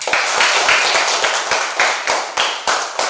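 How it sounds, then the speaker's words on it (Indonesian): A small group claps in a classroom for the second group of pupils, a loud patter of several hands with sharp, uneven strikes running steadily throughout. "tepukan untuk kelompok 2"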